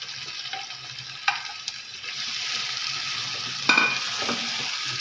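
Chicken liver frying in a pot, giving a steady close sizzle with a few sharp clinks and stirring scrapes, no talk.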